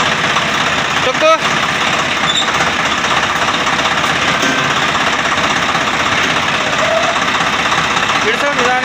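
A vehicle engine runs steadily at idle with a continuous rumble and faint knocking, a fault noise said to appear only when the clutch pedal is pressed, close and loud for the whole stretch with occasional voices underneath.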